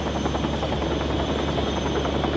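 A helicopter in the video game Still Wakes the Deep gives off a loud, steady rotor drone with a rapid chopping pulse, close and continuous with no talking.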